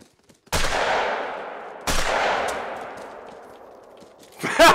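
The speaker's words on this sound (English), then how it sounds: "just shoot everything, Falcon." Two loud rifle shots in the hunting game Call of the Wild, each with a long echoing decay rolling away across open terrain, followed by a rising noise at the end.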